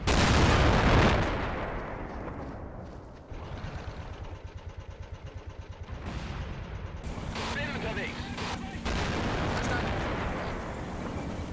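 Tank cannon fire in the World War II game Men of War Assault Squad 2 booms loudly at the start, followed by rumbling engines and further battle noise, with someone talking over it.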